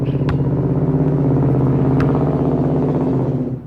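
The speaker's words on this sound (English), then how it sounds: "that car's super loud" A loud car rumbles past at close range, a steady heavy engine drone with a rough, throbbing texture that holds for several seconds before easing slightly at the end.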